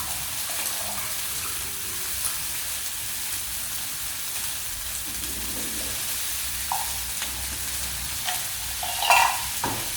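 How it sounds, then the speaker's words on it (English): Peas and sweet corn sizzle steadily in a frying pan for rainbow rice, with occasional louder pops and crackles near the end as vegetables jump, no talking. "we've got peas and sweet corn in ours. They're popping up everywhere. They're bouncing out the pan."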